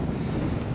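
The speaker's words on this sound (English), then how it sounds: "It's a little windy now, a little sprinkly" Gusty wind rushes across an open outdoor park field on a drizzly day, a steady low rumble of buffeting and whooshing that stays close to the microphone for the whole short stretch, with no talking.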